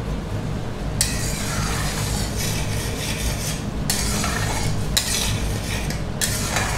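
Tomatoes cooking in a pan for pasta are stirred with a utensil, giving close, rough scraping strokes in several distinct bursts over a steady low background, with no talking.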